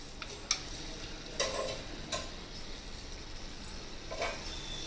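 Chana dal fries in hot oil in a home kitchen, a low steady sizzle broken by several stirring scrapes and light clinks of a spoon against the pan, heard close and without talk.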